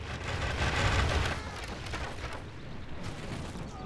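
Troops in the strategy game Fourth Age Total War firing a volley: a dense, rumbling crackle of massed shots that swells loud early and then thins to a steadier rattle of battle noise.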